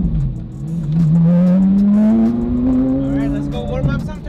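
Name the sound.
Carrera GT with DDE straight pipes exhaust revving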